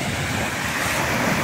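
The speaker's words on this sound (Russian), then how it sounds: "Волна так и бьет по чуть-чуть." Gentle sea waves on the Sea of Okhotsk wash and break softly in a continuous, rushing hiss, with a slight wind rumble underneath and no voices.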